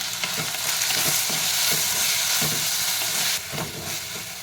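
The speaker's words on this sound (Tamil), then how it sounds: "தக்காளி போட்டுக்கலாம். நான் 2 தக்காளி எடுத்துருக்குறேன். இதையும் போட்டு நல்லா வதக்கலாம்." Tomatoes sautéing in hot oil in a pan for avarakkai kulambu give a steady, close sizzle and hiss with soft stirring scrapes. The frying sound runs continuously and alone, with no voices.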